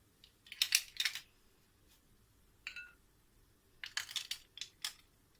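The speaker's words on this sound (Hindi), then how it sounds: "अब हमारा जूस रेडी हो गया, तो अब हम इसके अंदर डालेंगे आइस क्यूब।" Ice cubes dropping into a glass of homemade apple juice, bright clinking knocks in two short bursts with a lone clink between, close and fairly quiet.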